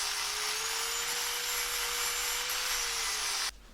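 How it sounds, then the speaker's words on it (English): A grinder fitted with a wire wheel scrubs rust off the metal of a Talbot Express camper van's battery tray area. It makes a steady, loud, high whirring scrape for about three and a half seconds, then cuts off abruptly. "Tidied up the last little bits of rust on the surfaces. That's using the wire wheel."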